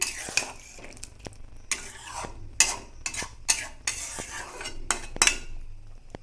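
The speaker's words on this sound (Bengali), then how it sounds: "খুব আস্তে একটু নাড়াচাড়া করে নিতে হবে।" A ridge gourd curry is stirred gently in a pan: a soft sizzle runs underneath while a spoon scrapes and clinks against the pan in irregular, sharp taps, close and moderately quiet.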